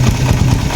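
Raider 150 Fi motorcycle engine idling steadily up close with a worn, ticking cam chain tensioner, a continuous low mechanical rumble with a faint rhythmic clatter running through it, no voices.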